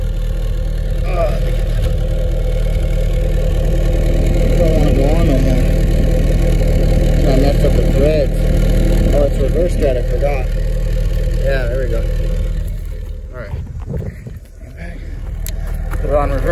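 A turbocharged Honda Civic engine runs steadily nearby with a loud, low idle drone while people talk over it, and the engine note dips briefly near the end.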